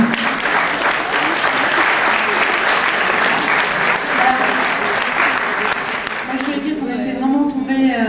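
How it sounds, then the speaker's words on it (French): Dense, loud applause from a crowd of young people fills the room for several seconds at a crafts ceremony, then tapers off as a voice begins speaking over the fading claps. "Il faut remettre officiellement le clap sous les applaudissements de nos jeunes amis."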